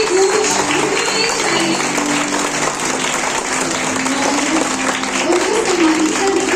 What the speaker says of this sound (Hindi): तालियों की गूंज चाहिए।